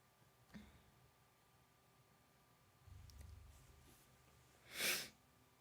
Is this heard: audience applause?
no